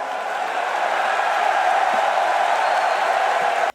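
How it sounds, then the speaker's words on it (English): A large esports arena crowd at the RLCS Spring Major cheers and applauds a team's walkout on stage, a dense steady roar that holds loud throughout and cuts off abruptly at the end. "The crowd didn't just cheer for their walkout"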